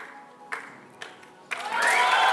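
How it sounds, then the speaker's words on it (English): A crowd at a women's 10 m air rifle World Cup competition in Bhopal breaks into applause after a shot, rising sharply from quiet clicks to a full, sustained clapping swell. "Ramita strikes a 10-8 and gets a big applause"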